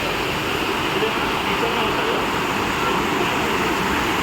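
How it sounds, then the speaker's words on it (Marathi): A river flows near a farm, giving a steady, loud, broadband rush that runs without a break through the whole stretch. "आणि हा आवाज आहे तो नदीचा आहे"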